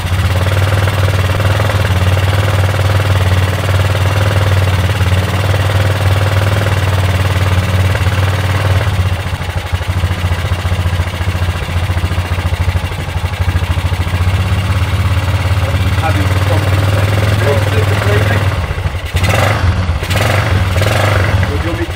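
A motor engine runs continuously with a low, rough rumble, holding steady and easing slightly, loud and close for the whole stretch.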